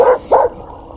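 Two sharp dog barks close by at night at a jungle campsite, separated by a short pause and followed by quiet.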